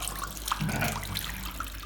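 Water runs steadily from a tap somewhere in southeast Angola, a faint, continuous hiss and trickle with no talking.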